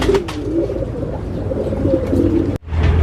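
Racing pigeons coo in a loft, soft repeated low throaty calls continuing close by for a few seconds with a brief dropout near the end.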